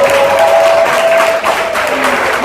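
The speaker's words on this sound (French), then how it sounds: "Je vous demande vraiment d'applaudir Maho Kouyaté très très fort" Loud, continuous audience applause at a literary event, steady clapping filling the whole moment with a faint tonal whistle running beneath.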